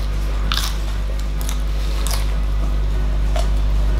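Raw spring cabbage, cut into bite-size pieces with the core removed, being chewed close up: a few moist crunches and squishy bites in quick bursts over a constant low background hum, with no talking.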